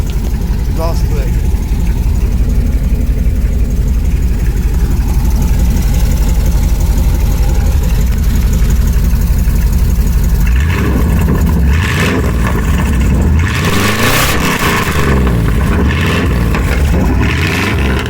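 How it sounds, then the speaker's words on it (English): A truck idles with a steady, loud exhaust rumble, then revs repeatedly in the second half, the exhaust note rising and falling in bursts up close. "Giving the YouTubers an exhaust clip. Going and revving up"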